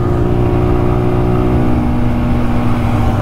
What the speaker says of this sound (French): il y a du motard qui arrive derrière, on va les laisser passer